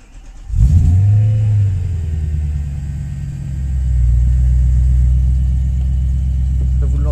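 BMW M3 E92 V8 fires up and revs hard, a loud, raspy exhaust roar that surges, settles into a deep rumble, then swells again, close by with no talk over it.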